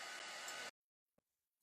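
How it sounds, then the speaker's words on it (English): A hair dryer blows loudly on watercolor paint dusted with salt for under a second, then cuts off abruptly, followed by a faint click. "let me use the hair dryer real quick, dry it"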